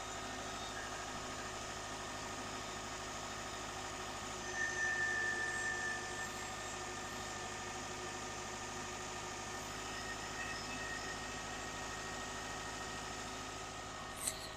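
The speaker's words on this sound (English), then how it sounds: "I'm going to leave this with you here so you can hold it and listen to the engine" A 2008 Subaru Outback 2.5 XT engine idles steadily with a low, even hum and faint mechanical rattle, continuous throughout with a brief small knock at the very end.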